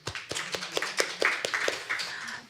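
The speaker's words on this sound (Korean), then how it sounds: "박수 부탁드리겠습니다." Audience at a Han River estuary forum giving a short round of scattered hand clapping, sparse and fairly quiet, fading after a couple of seconds.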